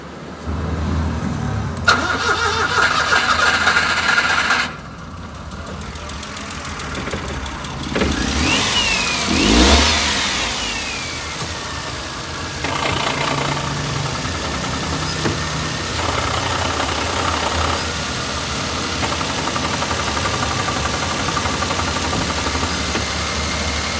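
A 2016 Daihatsu Hijet engine, just after a major service, cranks and catches, then settles into a steady idle with some revving, loud and close, with clanks and knocks around it.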